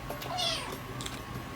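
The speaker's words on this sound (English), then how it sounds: "my cat woke up" A cat gives one short, fairly quiet meow over a low background hum, with a softer squeak following.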